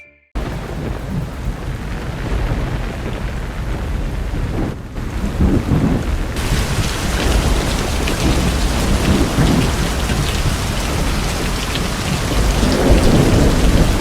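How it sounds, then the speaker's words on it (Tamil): Heavy rain pours steadily across a district in Mayiladuthurai, a loud, unbroken wash of downpour with rumbling thunder mixed in, and no voices. "இன்று காலை முதல் மாவட்டம் முழுவதும் கனமழை பெய்தது"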